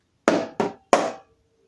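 A hand taps out three hard knocks on a wooden surface in an uneven, off-beat rhythm, each one close and distinct in an otherwise quiet room.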